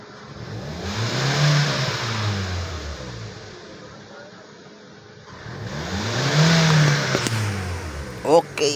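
A Hyundai Elantra engine runs after a crank no start repair, revving up twice in rising and falling swells over its idle, close by, with a few clicks at the end.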